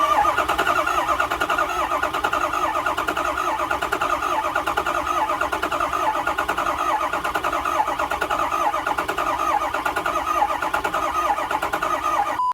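A dead Ford F350 truck engine cranks on its third start attempt, the starter turning over in a steady, rapid rhythmic chug that runs without firing for about twelve seconds, close and alone.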